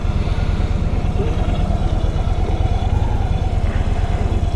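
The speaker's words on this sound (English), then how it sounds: "I also love the way this bike runs." A Victory Vision motorcycle with the Victory 106 engine runs with a steady, smooth low pulsing rumble, heard close and continuous with no talking.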